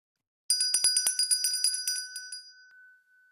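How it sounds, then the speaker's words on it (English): A small bell rings in a quick series of bright strikes, then trails off into a single fading tone. "So you see a bell ringing like so."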